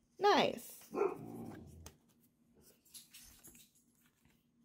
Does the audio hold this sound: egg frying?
no